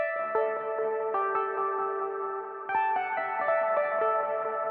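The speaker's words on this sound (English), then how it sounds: "this preset is called Analog Unison" A bright, buzzy synthesizer chord plays a short melodic phrase, with stacked detuned voices and sharp note changes, sounding alone.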